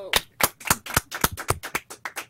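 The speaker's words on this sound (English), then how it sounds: "And Joseph, I think you deserve an applause." Applause at a press conference for a cross-country climate tour: about a dozen sharp, evenly spaced claps, fairly close and loud, with no talk over them.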